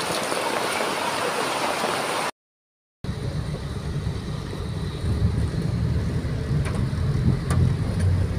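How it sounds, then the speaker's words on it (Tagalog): Heavy typhoon rain pours in a steady, dense hiss with a low rumble underneath, briefly cut to silence before the downpour resumes just as strongly. "Ulan ng ulan."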